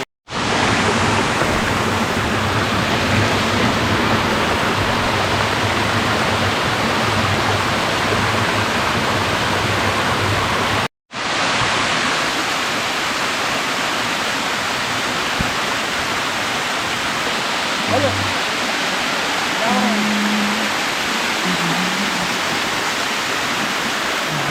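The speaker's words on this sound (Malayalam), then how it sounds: "തോലടി വെള്ളച്ചാട്ടം." Tholadi waterfall in the Agasthya hills rushes as a dense, continuous roar of falling water close by, steady and loud for the whole stretch apart from one brief cut, with no voices.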